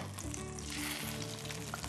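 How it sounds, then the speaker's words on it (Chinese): Threadfin fish fillet laid into a hot pan, with loud, dense sizzling and frying hiss filling the whole short stretch, no talk. "嗱我哋而家落嚿魚先啊"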